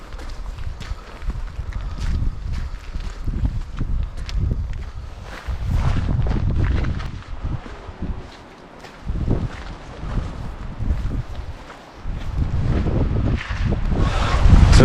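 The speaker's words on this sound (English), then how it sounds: "So it's really windy up here" Strong wind buffets the microphone in heavy, gusting roars that rise and fall, with brief lulls between the louder bursts.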